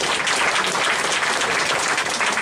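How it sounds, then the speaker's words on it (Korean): A hall full of attendees at a labor activists' national conference breaks into loud, dense applause to welcome a speaker, a continuous close roar of clapping with no talk. "큰 박수로 모셔주시기 바랍니다."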